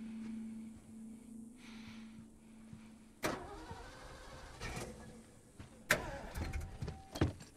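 A car engine starts in the video game The Last of Us, with clunks and a rough mechanical turnover that follows a steady low hum, set against quiet ambient noise with no talking.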